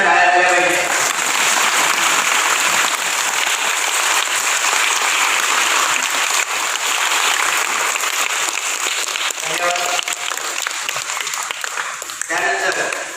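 Audience applause welcoming a program's president with a bouquet at a school-supplies distribution event for children at Gagangiri Ashram, Manori: dense, loud, sustained clapping from a large crowd that swells and fades near the end.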